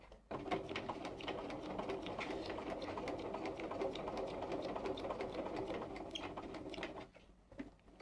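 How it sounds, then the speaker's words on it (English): A Bernina 930 sewing machine stitches a curve with longer stitches, a close, steady mechanical whirr with a fast, even ratcheting clatter that runs for about seven seconds, then stops and leaves faint room noise. "and I'm just going to sew."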